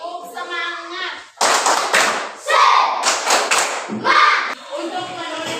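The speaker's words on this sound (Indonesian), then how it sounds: "Tepuk semangat." Schoolchildren in a fourth-grade primary class do a rhythmic spirit clap, loud close clapping in quick patterned bursts, with a teacher's voice before and between the claps.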